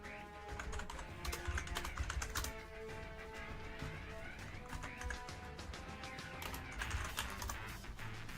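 Rapid typing clatters on a computer keyboard with a broken middle key during a live gaming tournament stream, steady key clicks under game sounds and music.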